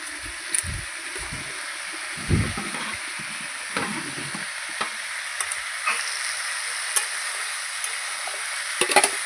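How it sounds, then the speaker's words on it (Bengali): Home-grown pumpkin frying with fish head in a pan, stirred in bursts: scraping and crackling sizzle come in clusters early on, then settle into a quieter, even hiss with occasional sharp pops. "সুন্দর করে নাড়াচাড়া করে নিলাম।"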